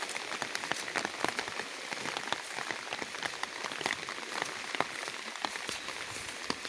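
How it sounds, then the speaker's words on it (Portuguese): Heavy rain falls steadily on a rural farm beside a flooded river, a loud continuous hiss of drops peppered with sharper close splashes and patters, with no voices. "Meu Deus, e a chuva não para."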